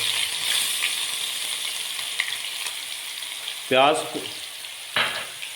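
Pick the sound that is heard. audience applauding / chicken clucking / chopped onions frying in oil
chopped onions frying in oil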